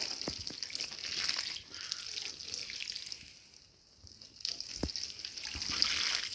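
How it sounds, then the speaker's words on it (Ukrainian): Canal water that has stood a while poured onto freshly dug garden soil in furrows, a steady splashing trickle running throughout with a few brief drips, close by with no talk. "Зробив канавки та собі поливаю."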